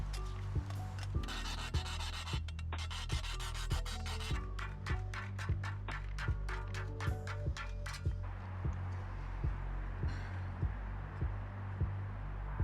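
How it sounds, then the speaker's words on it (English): A hand file rounds off the cut corners and edges of a metal bracket during a Jaguar XJ6 vacuum brake booster conversion, producing repeated rasping strokes in a steady rhythm, close and moderately loud, with a continuous low hum underneath and no talk. "Cut off the corners and round off the edges with a file."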